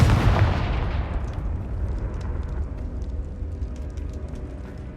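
Confringo fire-blast spell in the Hogwarts Legacy video game, set in a tomb: a sharp explosive burst at the start that decays into a long rumbling, crackling tail, loud and close.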